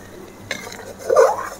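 A spoon scrapes and clinks against a pan while stirring a thick pepper gravy for an egg kuzhi paniyaram curry, a few short metallic scrapes and knocks, close and fairly loud.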